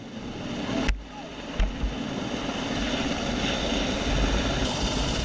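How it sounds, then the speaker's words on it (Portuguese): An EH-101 Merlin helicopter from Lajes air base in the Azores flies on a maritime rescue mission. Its rotor and engine roar is loud and continuous, with a few brief thumps near the start. "o helicóptero EH-101 Merwin, que partiu da base das Lajes"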